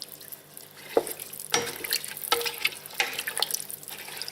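Water is poured into a cooking pot of pumpkin flesh and seeds, giving a close, splashy gurgle with a few sharper splashes and no talking.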